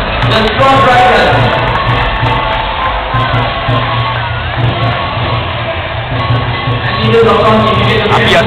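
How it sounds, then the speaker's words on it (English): Crowd cheering and shouting at the Chingay parade during a dragon performance, a dense steady roar throughout with a drumbeat and an announcer talking over it. "So let's get them all the big cheer, ladies and gentlemen."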